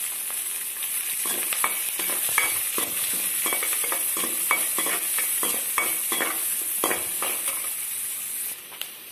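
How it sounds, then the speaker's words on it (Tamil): Chopped onion, green chili and curry leaves sauté in hot oil, giving a bright, continuous sizzle close by with repeated rhythmic scrapes of a spatula stirring the pan throughout. "அதுக்கடுத்து வந்து வெங்காயம், பச்சை மிளகாய், கருவேப்பிலை வந்து சேர்த்துருக்கேன்"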